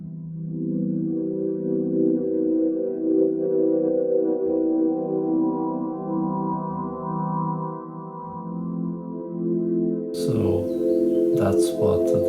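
Sustained synth chords, watery in tone, with a filter slowly opening so each chord grows brighter, layered harmonic pads held for about ten seconds before a brief, brighter textured change near the end.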